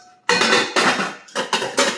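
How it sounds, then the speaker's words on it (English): A metal lid clanks onto an iron skillet in a kitchen, several bright, ringing metallic hits and scrapes in quick succession, close and fairly loud with no talking. "I just happen to have a lid that works on my iron skillet."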